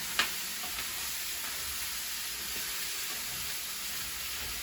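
Chicken liver curry fries in a pan that is starting to catch, a quiet steady sizzle with faint stirring scrapes and a small knock at the start, no voices.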